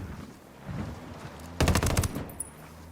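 An HK416 rifle firing in Ghost Recon Wildlands, a quick loud burst of rapid shots lasting about half a second after a stretch of quiet background rumble, with a faint echoing tail.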